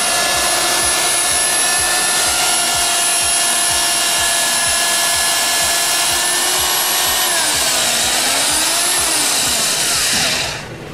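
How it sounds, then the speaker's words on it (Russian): A Hilti power drill bores holes for plumbing pipes on a house construction site, a loud steady whine running on without a break, dipping and wavering near the end before cutting off. "нам надо просверлить 18 отверстий"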